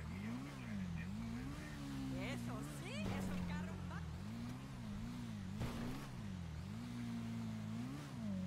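Car engine revving hard near redline, a loud sustained drone rising and falling in pitch across several pulls, close by, with brief voices and scrapes over it.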